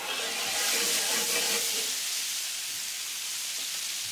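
Food sizzles loudly in a hot pan while being stirred for a cheap quick meal, a bright steady hiss that swells early then settles to a softer continuous fry with faint scraping.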